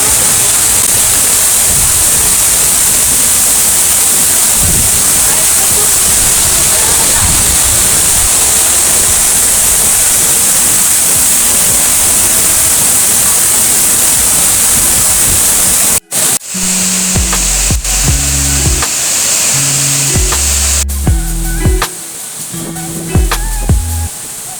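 Steady, loud roar of the waterfall at Manga Falls, a broad hiss of crashing water that runs unbroken for most of the stretch, then drops to a quieter rush with some scattered thumps and tones near the end.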